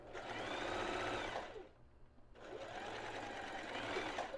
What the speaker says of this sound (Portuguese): agora eu vou fazer um ponto reto aqui, né? No ponto 3 mesmo, coloquei no reto. Então, eu vou fazer aquela costura